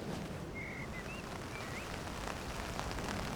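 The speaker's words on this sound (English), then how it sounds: "rain on the fly sheet" Rain falling on a tent fly sheet in wet camping weather makes a steady, soft, dense patter that continues throughout, with a faint bird chirp near the start.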